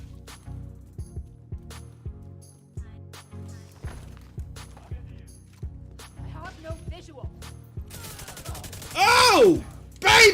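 Turret gunfire in the video game The Division 2, sharp single shots repeating at a steady pace like clockwork, fairly distant and moderate, with talk and a louder burst of noise near the end.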